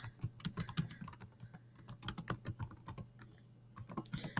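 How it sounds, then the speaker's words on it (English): Rapid, irregular typing on a computer keyboard while entering author and page details into a citation form, with close, crisp clicking keystrokes in bursts and brief pauses, no voice. "get that typed in"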